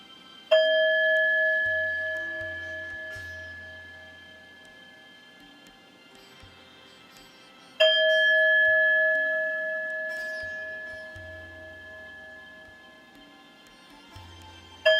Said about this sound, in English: As you hear the sound of the 3 bells, please repeat this mantra in silence.